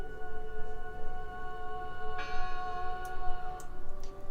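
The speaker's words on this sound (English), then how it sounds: "Listen! The bell!" Church bell tolling inside the Draugen video game, a few bright strikes ringing out over a steady droning ambience with sustained tonal hum, moderately distant and alone without talk.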